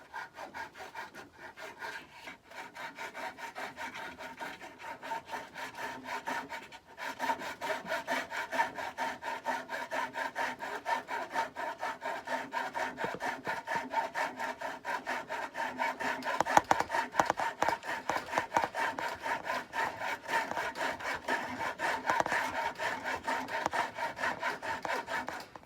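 Hand tools work wood while building a diddly bow guitar from junk, a steady, close scraping and sawing rasp that repeats without pause and swells a little louder in the later stretch.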